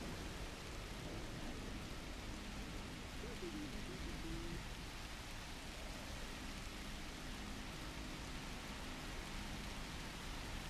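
Rain pours from rain clouds placed in the Universim video game, a steady dense hiss of falling water with a faint low rumble, unbroken and even throughout.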